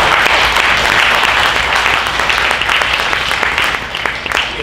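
A church congregation gives loud, steady applause, a thick wash of many hands clapping continuously throughout, close and full with little talk.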